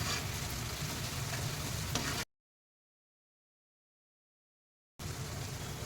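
Steady, even sizzling and frying from a hot pan as chili sauce goes in for restaurant-style chicken satay, broken by a sudden gap of dead silence before the same sizzle resumes.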